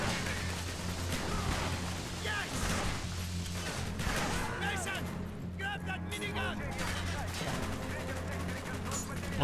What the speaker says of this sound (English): Oh yeah, the minigun.